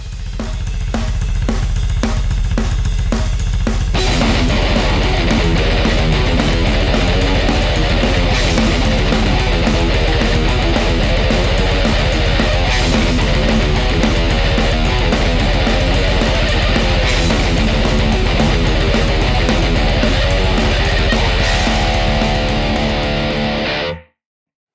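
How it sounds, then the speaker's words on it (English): Distorted metal guitar riff, dense palm-muted chugging and fast picked notes over a backing track, loud and sustained throughout before stopping abruptly at the end. "now we go into riff number 1, and it sounds like this"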